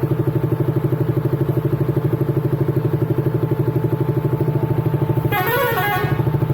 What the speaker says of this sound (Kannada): ಎಲ್ಲಿ ಹೋಗ್ತೀಯಪ್ಪ ಹಾರ್ನ್ ಹಾಕಿ?